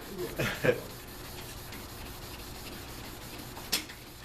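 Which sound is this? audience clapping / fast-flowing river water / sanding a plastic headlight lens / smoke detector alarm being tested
sanding a plastic headlight lens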